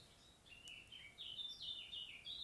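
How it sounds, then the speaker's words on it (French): Outdoor songbird, not a nightingale, singing a series of thin high whistled notes and short trills, faint and distant against quiet surroundings. "Et cet oiseau là, vous l'entendez?"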